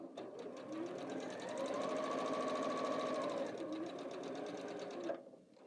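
A sewing machine stitches quilt pieces together in a steady, moderately quiet mechanical hum with a rapid needle rhythm, running for about five seconds before stopping.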